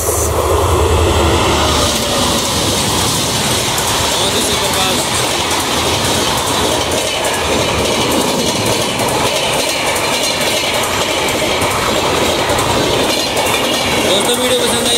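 The Darbhanga Clone Express passes at high speed through Aligarh junction, a loud, continuous roar of rushing wagons with rattling clickety-clack that stays strong for the whole stretch.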